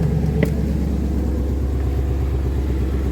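Ford Mustang S550 engine running with a steady low rumble close by, after a short click of the start at the outset, settling into an even idle with no talk.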